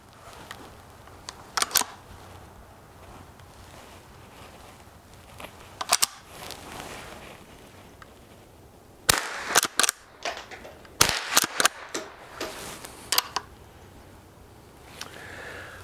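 Rossi Rio Bravo .22 caliber lever-action rifle firing outdoors: sharp, loud cracks in irregular bursts, single shots early on, then several quick shots in close succession, with quiet pauses for working the lever between them.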